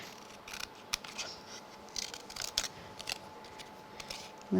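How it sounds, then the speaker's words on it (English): Scissors trim a paper craft piece for a sparkly snowman just inside a pencil line, a series of close, crisp snips spaced irregularly with quiet pauses between them. "So I'm going to trim it just on the inside of my pencil line."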